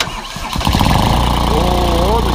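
A Yanmar mini dumper engine with a blown head gasket cranks and catches, then settles into a loud, steady close-up idle, with voices nearby.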